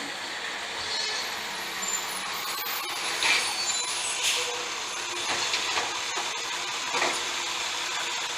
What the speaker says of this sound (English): trash truck is on its way back. Recycle truck, I should say.